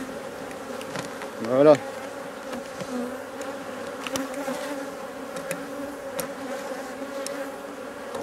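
Honeybees hum steadily around an open beehive while a beekeeper works the frames, with one louder buzzing swell midway; someone speaks a single brief word.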